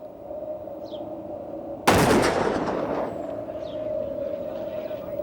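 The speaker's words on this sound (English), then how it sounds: "Belgian snipers started shooting." A single loud rifle shot from a sniper cracks sharply over a low steady drone, then fades slowly in a long echoing decay.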